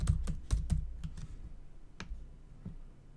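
Fingers type a short folder name on a computer keyboard, with a quick burst of close, crisp key clicks followed by a few scattered taps.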